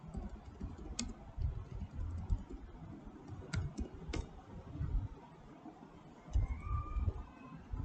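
Quiet computer keyboard typing while writing an exploit script, soft scattered key clicks over a low background hum, with a few sharper taps standing out.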